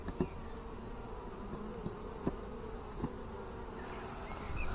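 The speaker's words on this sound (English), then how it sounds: "down by the entrance so the bees can easily find their way home" Honey bees hum in a steady, low drone at the hive entrance, a dense buzz with a few bees passing close and a faint rise toward the end, no voices.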